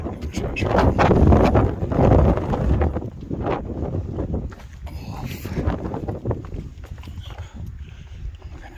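Strong wind on a mountain trail batters the microphone in heavy, uneven gusts, loudest early and then easing to a lower, ragged rush.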